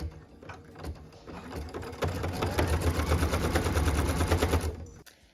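A sewing machine stitches the tack-down line on a log cabin quilt block, its needle running in a fast, steady mechanical rattle that speeds up and holds close and loud before stopping abruptly.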